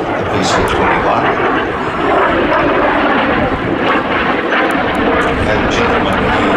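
A BAC Jet Provost jet flies at an air festival with a loud, steady engine roar that holds throughout, while a voice talks over it.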